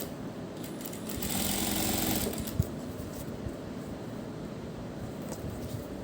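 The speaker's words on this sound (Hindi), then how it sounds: "यहाँ पर किनारे किनारे पर हम सिलाई लगा देंगे।" A sewing machine stitches along the edge of a fabric neck design with dori loops, a steady low mechanical whirr running at moderate volume with a slight swell in the middle and a single small tap.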